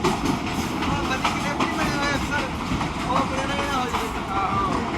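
A local passenger train runs from Lahore to Shorkot, its steady rumbling clatter heard from inside a carriage beneath constant talk among passengers.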